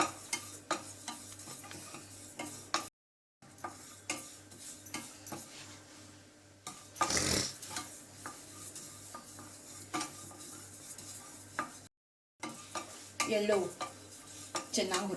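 Flattened rice (avalakki) roasts in a pan, stirred steadily with a spoon; a soft, dry close sizzle runs under repeated scraping strokes, broken by two brief cuts of silence.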